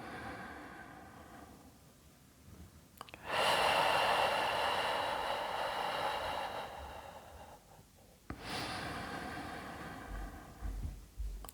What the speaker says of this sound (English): take another 2 breaths on your own time